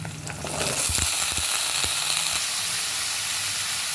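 Potatoes tipped into a pan of frying onions set off a loud, steady sizzle with a few brief knocks and scrapes early on, continuing as an even hiss to the end.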